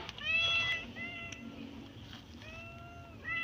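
Several cats meow in turn, drawn-out nearby cries separated by short pauses, over a low background hum.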